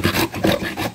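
Hand sawing with a hacksaw through material to cut out a slot, a close, steady rasping of several back-and-forth strokes with no talking.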